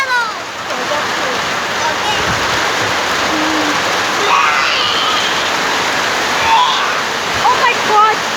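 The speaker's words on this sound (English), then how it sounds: "There is a rainstorm right now" Heavy rain pours down in a loud, dense, steady roar with splashing, close by, and faint voices rising briefly over it.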